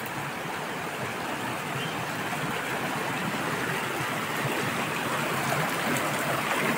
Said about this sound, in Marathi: झरा म्हणण्यापेक्षा वाहतं पाणी आहे